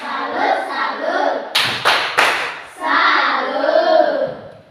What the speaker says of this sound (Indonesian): Kita beri tepuk tangan dulu kepada kelompok berbicara. Tepuk salut mulai.